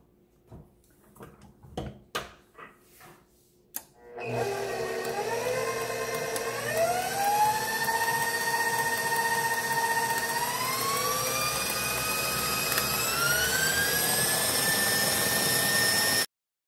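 A few soft knocks and clatters, then an electric mixer whipping Swiss buttercream starts with a steady loud mechanical whir, running continuously, its pitch rising in stages as the motor speeds up.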